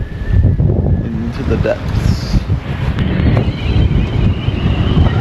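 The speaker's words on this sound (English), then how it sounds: "It's still very windy and would be horrible anchoring" Strong wind buffets the microphone aboard a sailboat on a rugged Australian coast, with a constant loud roar and the wash of waves. A voice speaks briefly over it.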